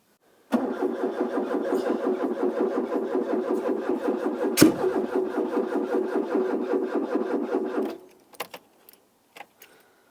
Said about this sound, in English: Bit of a backfire that.